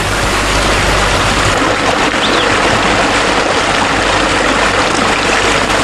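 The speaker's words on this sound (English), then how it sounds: "natural CO2, better known as carbon dioxide, rises from the depths of the earth, spluttering and popping as it breaks the surface of the water" Natural carbon dioxide bubbles up through a brook near Bongwan, a loud, steady rush of water with faint spluttering, recorded in an old steam-railway era setting.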